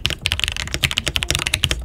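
Rapid, steady typing on a mechanical keyboard with a hot-swappable PCB, WB keycaps and hand-lubed Gateron Oil King switches, a dense run of close, crisp keystrokes with no voices.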